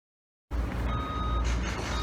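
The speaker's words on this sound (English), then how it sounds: "As you can hear, lots of beeping and the noise in the background" After a brief silence, a live construction site near bridges roars in with heavy machinery rumble and a repeating high reversing beep from a truck, loud and close, continuing to the end.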